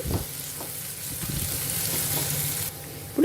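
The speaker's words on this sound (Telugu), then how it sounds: "ఈ ఉల్లిపాయ ముక్కల్ని ఒక రెండు నిమిషాలు ఫ్రై అవ్వనివ్వాలి" Onion pieces fry in a pan with a steady, close sizzle and a light hiss that runs continuously. A brief clatter comes near the end.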